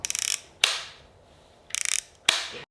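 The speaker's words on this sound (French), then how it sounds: "Pour imprimer tes photos, rien de plus simple, il y a un petit levier que tu tournes comme ça" Two quick ratcheting bursts of clicks as the print lever on a Leica Sofort 2 instant camera is turned, each followed by a sharp mechanical snap and a fading whir of the print ejecting, close and crisp.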